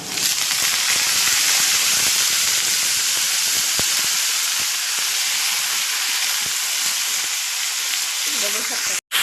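Tandulja greens hit hot oil on a tawa with chili and reddened garlic, giving a loud, close, steady sizzle and hiss that lasts the whole time, with a few faint stirring clicks and a brief drop near the end.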